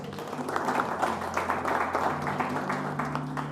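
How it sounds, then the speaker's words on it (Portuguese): A church congregation claps during a Portuguese-language service, a soft, moderately dense patter of hands heard at some distance with a low background hum. "Aplauda ao Senhor, amém?"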